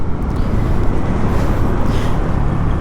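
A Yamaha NMAX Turbo TechMax scooter rides along at steady speed, heard as a constant loud roar of engine and wind buffeting the microphone, with no speech over it.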